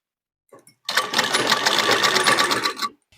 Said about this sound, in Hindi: इस तरह हम एक फिनिशिंग का सिलाई गले में लगाकर गले के कपड़े को अच्छे से बैठा लेंगे